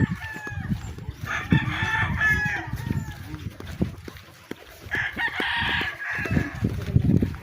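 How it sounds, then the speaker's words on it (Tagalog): Several gamecock roosters crow in overlapping calls, one burst early and another later, mixed with clucking and people talking nearby. "Daming panabong na manok"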